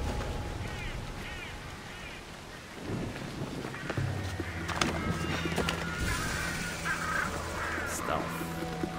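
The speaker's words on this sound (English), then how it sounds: "I get smoked by lightning." A thunderstorm in the video game Assassin's Creed Odyssey, with rumbling thunder and rain beneath a sudden crack, plus low game sounds and brief fowl-like calls.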